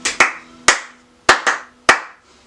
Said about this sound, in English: And then goes clap, clap, clap, clap, clap, clap.